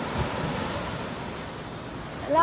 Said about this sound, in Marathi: खूपच डेंजर लाटा आहेत